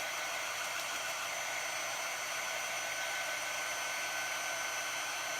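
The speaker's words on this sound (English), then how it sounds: "I dry it because I'm going to layer the transfer over it." A heat dryer blows steadily on a wet chalk transfer on galvanized metal, a constant close, loud whooshing hiss with no pauses and no talking.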